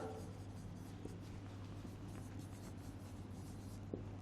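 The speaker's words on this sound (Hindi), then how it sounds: "मैं पूरी फुल फॉर्म लिख देती हूँ" A marker or chalk writes out a full abbreviation on a classroom board, giving faint, soft, continuous scratching strokes at close range over a steady low hum, with no talking.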